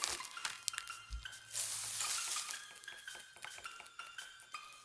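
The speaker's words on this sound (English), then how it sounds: "I'm just using my paintbrush to mix because we're gonna paint with this color anyway." A paintbrush stirring paint in a small container, giving a quick series of light clinks and taps with a brief soft swishing burst in the middle, close and fairly quiet with no talk.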